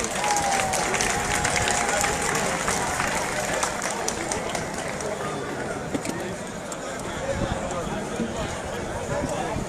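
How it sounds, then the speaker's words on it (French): A crowd applauds at an outdoor Simone Day gathering of the Abouré and Malinké communities as the mayor steps onto the podium. Dense, steady clapping fills the whole stretch without pause, with a faint whistle-like tone near the start. "Sous vos applaudissements, s'il vous plaît."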